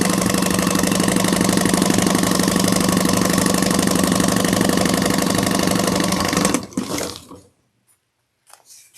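A sewing machine stitches bag panel pieces together with a steady, fast mechanical whir lasting about six seconds, then stops abruptly, leaving a few faint clicks.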